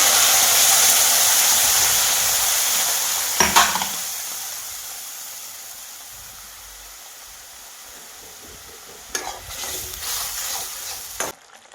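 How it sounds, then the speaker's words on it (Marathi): Ground spice paste hitting hot oil already holding mustard seeds, cumin and turmeric, a loud close hissing sizzle that slowly fades, broken by two bursts of stirring scrapes, no voices. "हे जिरं टाकलेले ही थोडीशी हळद आणि आता हे वाटलेलं वाटण टाकून घेते"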